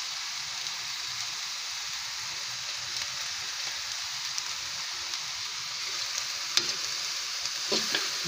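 Vegetables fry in a pan with oyster sauce for lumpiang gulay filling, a steady broadband sizzle running throughout, with scraping stirs growing more noticeable near the end; no talking.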